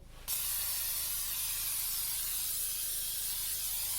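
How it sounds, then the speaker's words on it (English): A short click, then a steady, loud cooking oil spray hisses continuously for several seconds onto a baking pan, close by. "Let me spray this pan."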